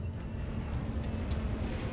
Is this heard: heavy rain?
no